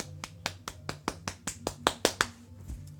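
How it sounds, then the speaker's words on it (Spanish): Light applause from a small group at home during a casual Spanish-language gaming stream: about a dozen crisp, evenly spaced claps or snaps that get slightly louder, close and quiet, with no talking. "Un aplauso para Misa."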